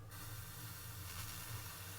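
A heating device sizzles with a steady, even hiss over a low hum, continuous and fairly quiet for the whole stretch, with no voices.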